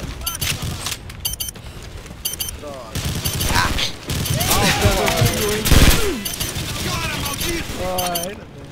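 Rapid automatic gunfire in Call of Duty during a fight at a construction site in central Rio, loud repeated bursts and single shots with metallic clatter, mixed with voices and in-game voice chatter.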